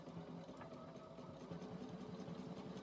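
A sewing machine stitches around fabric with a soft, fast, even mechanical whirr and rhythmic needle clatter, fairly quiet and continuous throughout.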